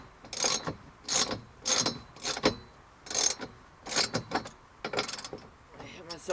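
A ratchet tightens a seat belt bolt on a BMW E36 M3. Short, loud bursts of clicking come in an uneven rhythm, one stroke after another, at close range.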